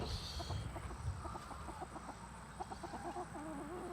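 Hens in a chicken coop with pine shavings, clucking steadily in short repeated notes, several birds close by, continuous and moderately loud with no talk.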